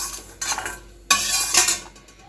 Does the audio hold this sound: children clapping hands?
no